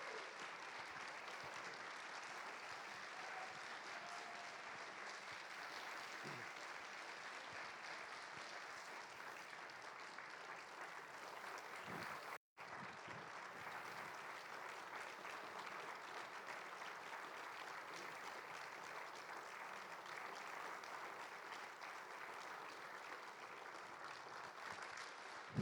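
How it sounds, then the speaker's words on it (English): Concert audience clapping for a handbell choir, the River City Ringers, a long, even wash of applause lasting about twenty-five seconds with one momentary dropout midway. "Can we give them a round of applause for their lovely hard work?"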